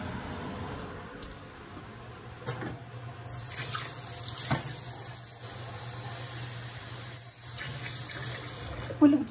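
Tap water running in a home kitchen while rasam is cooked, a steady close flow with some splashing, while a person talks over it.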